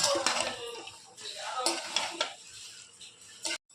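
Clattering spoon scrapes and knocks against a metal pot as rice and mutton for Khasi jadoh are mixed, in irregular bursts with quieter gaps and a faint sizzle underneath.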